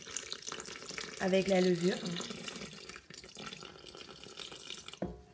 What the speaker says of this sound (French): Je vais venir mettre mon eau au centre